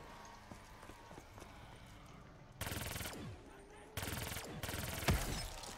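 Automatic gunfire from a recoil-heavy gun in the zombies mode of Call of Duty Black Ops 3, Shadows of Evil map: bursts of rapid loud shots in two main stretches over a constant busy game background.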